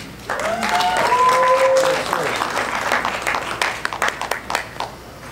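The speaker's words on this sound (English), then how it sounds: "I'd like to give a big round of applause for none other than Steve Cunningham" An audience at a boxing press conference for the Mayweather vs. McGregor undercard breaks into loud, sustained applause with whistles, gradually tapering into scattered claps.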